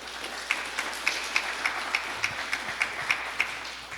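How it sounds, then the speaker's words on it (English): Scattered, modest applause from an audience honoring Cassandra Culin at a homelessness committee gathering, with a few distinct claps standing out over a steady soft patter. "deserves actually a round of applause for all that she's done to make this and other things happen"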